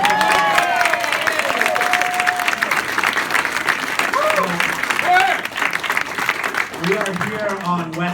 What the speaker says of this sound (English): Can we give them another big round of applause?